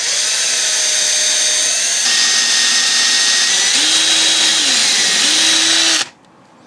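A cordless power drill whines loudly and continuously for about six seconds while dining chairs are repaired, its pitch shifting as the speed changes, then it stops abruptly, leaving a faint background hum.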